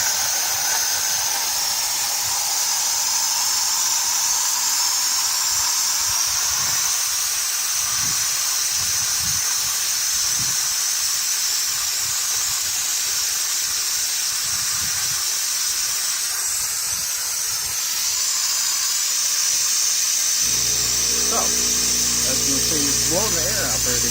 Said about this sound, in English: So I will turn the air on, full blast, and then I will turn the oil on.